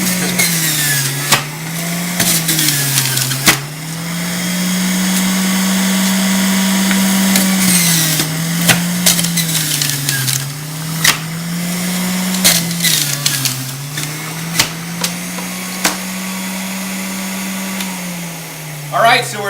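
An Omega Vert VRT330 juicer churns through watermelon with a loud, close motor drone that wavers in pitch, broken by sharp clicks and knocks as pieces are fed in.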